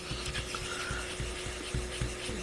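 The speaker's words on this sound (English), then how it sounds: "You can see even with a little scrub from the Nagura there, it takes a little bit of scrubbing" A nagura stone scrubs the loaded surface of an Aotoshi 2000 green brick water sharpening stone, giving a soft, steady abrasive rubbing with short repeated strokes, fairly quiet and close.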